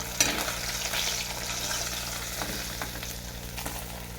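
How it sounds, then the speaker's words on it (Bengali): Pieces of katla fish fry in hot oil with a steady, close sizzle and crackle, plus a few sharp spits and pops, with no talking. "মাছগুলো সব ভেজে নিয়েছি মাছগুলো আমার সব ভাজা হয়ে গেছে মাছগুলো তুলে নেবো"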